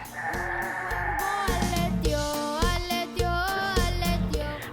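Goats on an Arizona ranch bleat loudly and close by, several wavering, overlapping calls rising and falling over a few seconds.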